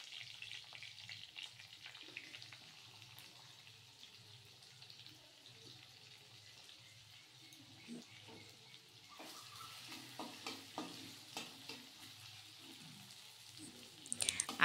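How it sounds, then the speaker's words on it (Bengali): Potato and onion fry in a pan with a soft, steady sizzle, joined later by scraping stir strokes and crackling bursts, fairly faint and close. "আলু আর পেঁয়াজটা একসাথেই ভাজা হয়ে যাবে"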